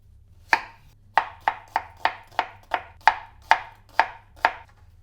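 A knife chops through an onion on a cutting board with ten sharp, close strikes, an isolated first cut followed by a steady quick rhythm, each stroke ending in a brief thud.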